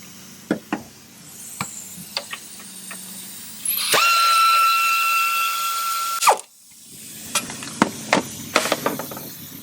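A power drill or driver runs steadily for a few seconds, whining at a fixed pitch while backing out EGR bolts during a spark plug job on an engine with plugs under the intake, with clicks and taps before and after.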